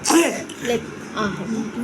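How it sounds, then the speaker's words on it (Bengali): A person coughs or clears their throat a few times, short rough bursts close by, mixed with brief bits of voice. "কাশি হচ্ছে"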